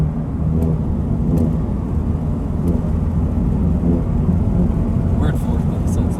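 A supercharged Honda Civic accelerates hard in fourth gear, and a loud, low, steady engine roar fills the cabin with faint higher whine above it. Occasional brief knocks and short voice sounds come through.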